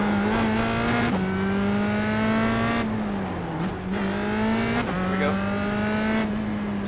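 A USF2000 race car in iRacing at Spa, warming up its tires and brakes, holds a loud, close engine drone that climbs in pitch and drops sharply at each upshift, several times in a row, with no voices.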